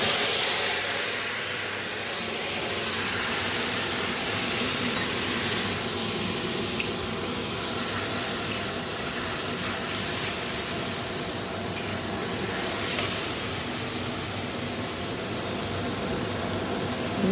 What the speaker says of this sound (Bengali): কড়াইতে তেল দিয়ে আমি গোটা গরম মশলা, শুকনো লঙ্কা ফোড়ন দিয়েছি